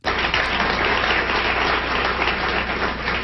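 An audience on a 1979 Phil Donahue Show recording applauds steadily, a dense wash of clapping that starts abruptly and holds at an even level throughout, slightly muffled and band-limited like an old broadcast.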